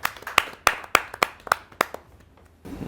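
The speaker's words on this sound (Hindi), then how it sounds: "उनका जोरदार तालियों से स्वागत कीजिए श्री रामउतार बैरवा जी।" At a Hindi poetry gathering, a small audience welcomes a poet with about eight crisp, evenly spaced claps close by, stopping after roughly two seconds into quiet, followed by a faint low murmur.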